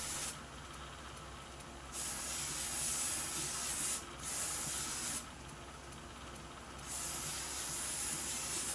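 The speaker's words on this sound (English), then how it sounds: "I start using a 1-inch wide slack belt to help smooth everything out and get it really dialed in" A knife handle for a twist Damascus bowie being smoothed on a 1-inch slack belt sander, a steady hissing abrasive rasp that cuts in and out in several long passes, with quieter machine hum between contacts.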